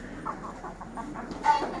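Hens in a backyard flock kept alongside pigeons and aseel fowl, four of them recovering from illness, give a run of soft, evenly spaced clucks at moderate distance, with a slightly louder cluck near the end.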